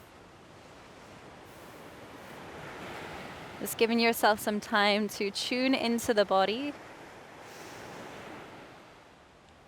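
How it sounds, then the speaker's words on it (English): Gentle ocean waves wash in and out softly with a steady surf hiss, swelling and fading slowly, while a calm voice speaks briefly over them in the middle. "to listen to the sound of the waves."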